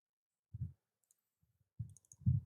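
Computer mouse clicks on a continue button during an online application, three soft, brief, close clicks separated by quiet pauses with no talking.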